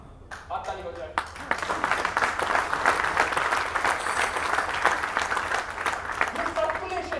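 An audience at a hotel talk in Lucknow breaks into sustained hand clapping that starts abruptly after a moment of quiet and holds steady for several seconds, with a voice speaking over it.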